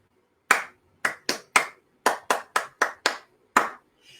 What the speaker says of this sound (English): we're clapping the rhythm